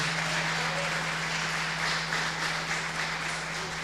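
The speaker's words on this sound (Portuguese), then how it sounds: "Aplauda Ele porque Ele é digno." A church congregation applauds in a dense, steady wash of many hands clapping together, sustained and even from start to finish beneath a faint low hum, with no talking.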